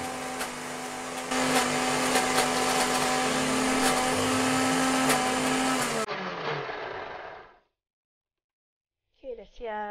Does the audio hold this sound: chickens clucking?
no